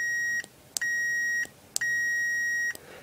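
An Arduino circuit gives out three high, steady electronic beeps, each about half to one second long with short gaps, heard alone and fairly loud while a push button is pressed.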